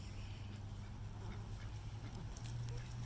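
Ducks quack over a low rumbling background, the calls soft and somewhat distant, with a steady hum beneath them.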